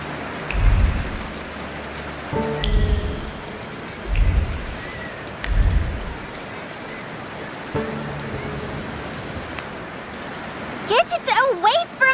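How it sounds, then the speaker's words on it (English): Steady hiss of rain in the video game The Thaumaturge runs throughout, joined by low rumbling thuds and a few brief voice-like bursts, ending with a cluster of higher tonal sounds. "And now it starts to rain."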